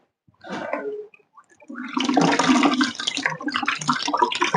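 Tap water runs and splashes during handwashing at a home sink fitted with a salt-free water softener, starting after a brief quieter burst and then flowing steadily and close, with no talk over it.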